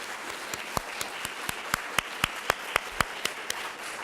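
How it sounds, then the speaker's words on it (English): Conference attendees applaud a panel discussion with sparse, evenly spaced claps that stand out crisply over a quiet room murmur and build slightly before easing off. "please give a round of applause to the panel"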